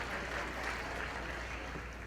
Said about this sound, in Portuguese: Palmas aqui.